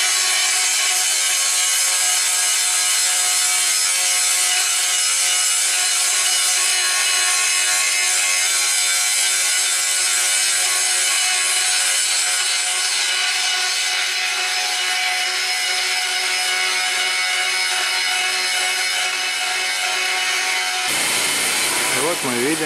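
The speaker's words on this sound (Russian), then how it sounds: "Мы видим, как срезается одна из двух оставшихся высоких еще опор." A tall support of the Podilsko-Voskresensky bridge is cut through during demolition. A loud, steady, rasping cutting noise runs unbroken for about twenty seconds, then stops abruptly.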